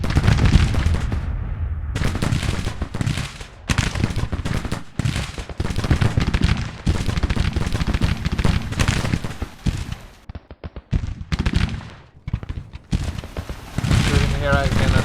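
Rapid, crackling musket volleys and cannon booms roar through a Civil War era Confederacy battle in a Total War style strategy game, dense overlapping shots pounding almost without pause, with someone talking over the din.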